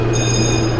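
An amusement park train ride rolls along its track at Holiday World, giving a short, steady rumble and hum of the moving cars with no voices.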